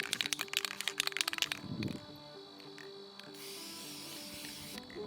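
Clear coat spray can outdoors for painting rocks, first a rapid rattle of the shaken can, a brief pause, then a long steady hiss of spraying that cuts off near the end.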